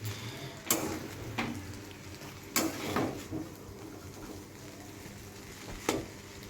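Chow mein stirred and frying in a pan, giving a steady low sizzle broken by a few sharp scraping clatters of the utensil against the pan, close by, with no talk.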